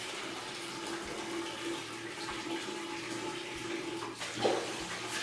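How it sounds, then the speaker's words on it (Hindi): Water pours steadily over the honeycomb pads of a Crompton Optimus 100-litre desert air cooler with a rushing, splashing hiss, close and continuous, with a brief louder splash near the end and no talking. "और पानी डाल देते हैं ऊपर से"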